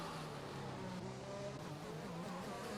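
Race cars in an F1 video game at Monaco roar in a steady, dense engine drone with shifting pitch as they run close together, no talk over it.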